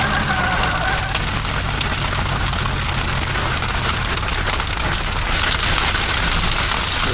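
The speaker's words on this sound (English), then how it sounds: "So we do have hail in this storm." Steady heavy rain mixed with hail drums on a surface without pause during a tornado-producing thunderstorm, a dense hiss that grows slightly louder toward the end.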